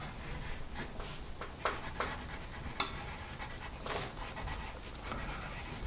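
A wide-core triangular learning pencil draws lines on paper, giving a close, dry scratchy rasp in uneven strokes with small pauses and a sharp tick as the tip lands.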